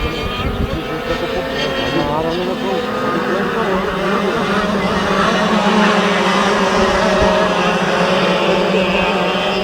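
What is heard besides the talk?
kart engine running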